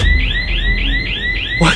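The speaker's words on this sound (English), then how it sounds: "A motion sensor alarm goes off." Motion sensor alarm going off in a house hallway, a loud electronic siren sweeping rapidly up and down in repeated cycles, ending with a short thump.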